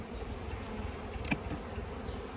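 Honeybees hum steadily around a hive, a dense, continuous buzz close by.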